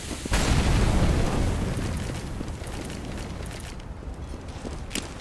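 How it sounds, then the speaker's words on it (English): A grenade detonates in the shooter game CS:GO, a loud booming blast near the start that decays into a long rumbling tail, with faint scattered footsteps and movement afterward. "Grenade out."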